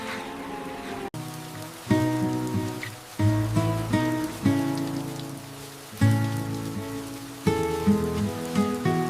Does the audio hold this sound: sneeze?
no